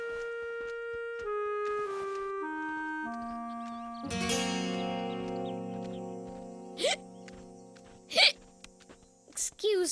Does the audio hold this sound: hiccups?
yes